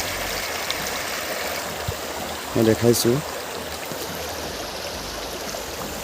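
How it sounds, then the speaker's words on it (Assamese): A mountain stream in Arunachal runs below a hill, a steady rushing and gurgling of water heard close, with a person speaking briefly over it midway. "অৰুণাচলৰ এটা পাহাৰৰ তলেদি বৈ অহা জুৰি কিমান ধুনীয়াকৈ বৈ আহিছে"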